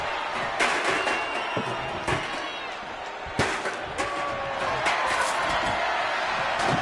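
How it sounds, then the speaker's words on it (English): Constant roar of a large wrestling arena crowd in the video game WWE 2K25, with scattered louder cheers and sharp slam-like impacts breaking through the din. "With every move you make, you hear this capacity crowd following you on that journey."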